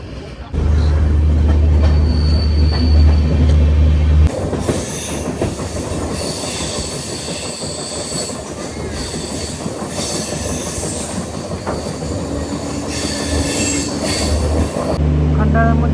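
A Mumbai–Pune local train rolls in with a loud rumble, rattling carriages and squealing wheels, continuous and close, with faint voices underneath.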